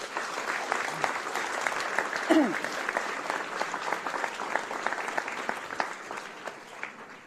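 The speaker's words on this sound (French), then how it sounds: "J'aimerais que vous l'applaudissiez" An audience at a local security and crime-prevention committee meeting applauds to welcome the new police commissioner, a sustained even patter of many hands clapping at a moderate distance.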